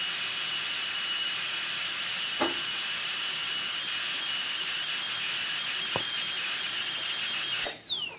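Dental handpiece turbine spinning after a Bio Lube oil flush, a steady high-pitched whine with a few faint clicks, rising in pitch near the end as it picks up speed.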